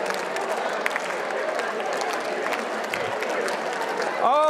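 Conference audience at a design talk claps in a rhythmic counting exercise, replacing a number with a clap; a dense, moderately loud patter of hands continues throughout, with a voice briefly entering near the end.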